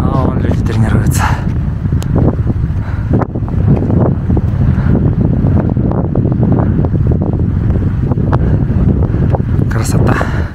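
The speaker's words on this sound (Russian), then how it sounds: "Но чем выше поднимаемся, тем больше ветер задувает." Strong mountain wind buffets the microphone as hikers climb toward a base camp near Munku-Sardyk, a steady loud rushing roar with gusty swells throughout, while people talk over it.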